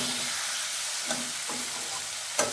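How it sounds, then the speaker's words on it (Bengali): Raw jackfruit curry sautéing in an open pan, a soft continuous sizzle under a few light scrapes of a spoon stirring, with one sharper clack near the end. "ঢাকনাটা সরালাম, কষানো হচ্ছে।"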